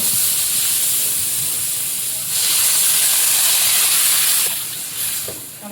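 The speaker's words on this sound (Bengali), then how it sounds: "ভালো করে ভেজে নিয়েছি, এইবারে জল দিয়ে" Water hits a hot pan of fried pond rohu fish, giving a loud, steady steam hiss that swells after a couple of seconds and then eases slightly near the end.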